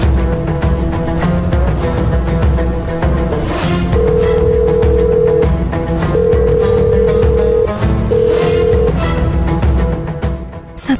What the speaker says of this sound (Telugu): ఫోన్ ఎందుకు ఎత్తడం లేదు?